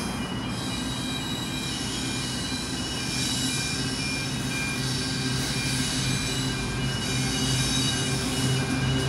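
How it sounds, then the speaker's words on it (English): A coal train rolls through the station at Adamstown, a steady, loud rumble of wagons and wheels with a faint metallic squeal, continuous throughout with no talking. "We actually have a coal train approaching."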